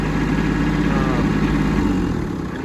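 A Kubota B2601 compact tractor engine idles steadily and close by, a continuous low rumble with a faint whine on top that eases off slightly at the end.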